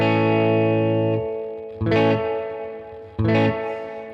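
Distorted electric guitar chords through an X-Space spring reverb effect in Amplitube 5 ring out with a washy, reverberant tail, struck again twice with bright attacks that splash and decay.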